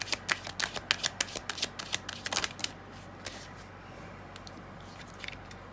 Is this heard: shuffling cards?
yes